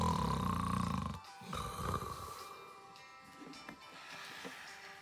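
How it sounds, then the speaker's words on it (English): Loud snoring in a children's read-aloud of Officer Buckle and Gloria, with a heavy rasping snore during the first second, then quieter snorting breaths that fade under softer background sound. "Sometimes there was even snoring."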